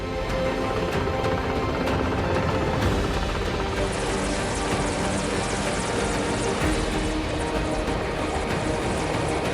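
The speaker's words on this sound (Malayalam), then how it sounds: "രാവിലെ 8:30-ന് രാഷ്ട്രപതിയുമായി ഹെലികോപ്റ്റർ ഇറങ്ങി." A helicopter carrying the President lands at the Rajiv Gandhi indoor stadium in Pathanamthitta, its loud, steady rotor and engine roar filling the whole stretch without a break.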